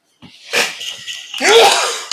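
A single loud, close sneeze bursts out with a breathy intake before it, ending in a brief voiced tail.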